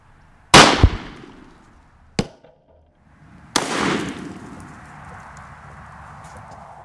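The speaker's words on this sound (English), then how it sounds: "like most shotguns, this Remington 870 was not a fan of like mud in the muzzle" Remington 870 shotgun fired with mud packed in the muzzle outdoors, one sharp loud blast followed by a smaller crack, then a second heavy report trailing into a lingering noisy rush.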